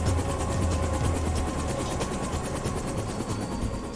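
A helicopter flies over the sea carrying crew offshore, its steady broadband rotor and engine roar continuous and fairly loud, with rhythmic blade chop pulsing throughout and no talking.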